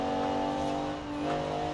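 A Rossion Q1 engine in Forza Horizon 4 accelerates smoothly, a loud, sustained high-pitched whine that holds steady with a slight dip and recovery in pitch, alone and with no voices.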